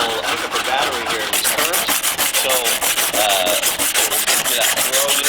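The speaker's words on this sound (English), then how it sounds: "I'm still here sanding away" Hand sanding a bushcraft knife blade, a steady rhythmic scraping rub of abrasive paper strokes repeating back and forth, close and continuous with no talk.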